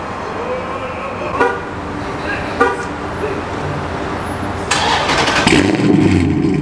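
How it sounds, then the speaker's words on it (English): After a couple of short clunks, a Chrysler 300 SRT with a catless exhaust fires up at night and its exhaust roars loudly and steadily close by. "Let me get them some exhaust clips real quick."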